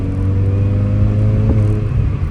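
A Mini's engine droning loudly and steadily from inside the car while driving through the gears, with a continuous low rumble and whirring tone holding fairly even and a brief knock midway.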